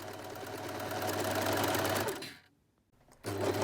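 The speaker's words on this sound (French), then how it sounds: "Zigzaguez ou surjetez les valeurs de couture du corsage séparément." Sewing machine zigzag or overlock stitching the bodice seam allowances of a dress, a steady close whirring run for about two seconds, a brief pause, then the motor starting again.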